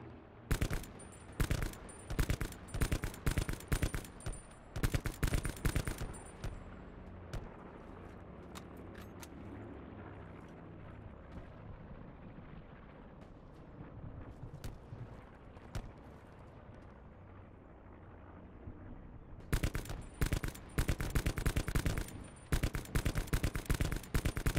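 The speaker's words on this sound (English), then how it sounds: "Might go ahead and take a couple shots." Gunfire in Call of Duty Blackout: rapid bursts of loud shots open and close the stretch, with a quieter rumbling battle and scattered distant shots in between.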